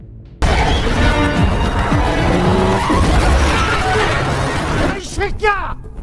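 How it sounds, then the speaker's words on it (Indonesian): A car is cut off and then speeds away with tires skidding and squealing, a loud roaring engine and screeching rubber throughout, ending in sharp tire squeals, with a voice speaking over it. "Pada akhirnya, mobil Bram berhasil dicegat oleh Ramon dan tangan kanannya. Tapi sialnya, Bram langsung kabur"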